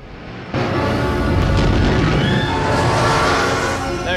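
Death Star superlaser firing in a Star Wars film scene: a deep, sustained booming roar that swells suddenly and holds loud and heavy to the end, with dense rumbling layers.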